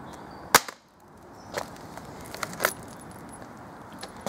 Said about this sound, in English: So I'm going to throw it down here.